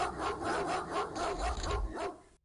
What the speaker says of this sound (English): The unregistered barking, I think that is a dog panicking.